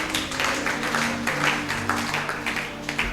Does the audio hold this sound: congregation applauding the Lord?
yes